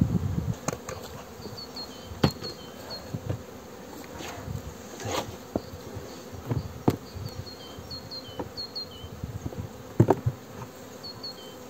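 Honeybees buzz continuously and close by, a dense droning hum with bursts of louder wingbeats, and faint bird chirps in the background.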